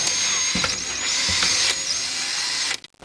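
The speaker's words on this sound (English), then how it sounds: "drill out a 1/2 inch hole in your toilet bowl cap" A power drill boring a 1/2 inch hole in a toilet bowl cap whines steadily at high pitch for nearly three seconds, with a few brief bumps and changes in load, then cuts off abruptly.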